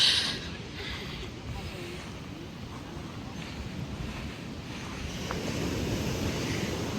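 Sea waves washing onto a beach, a steady rushing surf with wind noise buffeting the microphone throughout, moderately loud and continuous, with voices faintly present.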